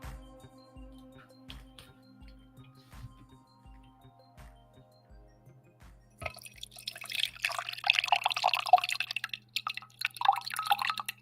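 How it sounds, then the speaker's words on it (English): Coffee poured into a cup: a slow, even series of soft drips for several seconds, then a louder, steady splashing stream of liquid running close by, with no talking. "Do I have any more coffee left? Okay, I think I have enough for 1 more pour."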